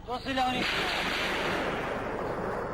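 Explosions in Syrian war footage begin with a brief voice shouting, then a loud blast rumbles and roars continuously, a broad heavy boom that lingers at a distance.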